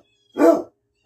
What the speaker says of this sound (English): That's my dog, Jesse.